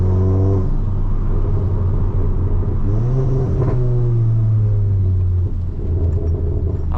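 A stage 2 tuned VW Golf MK7 GTI with an Integrated Engineering tune accelerating, heard from inside as a loud deep engine drone that rises in pitch, drops at a gear change and climbs again.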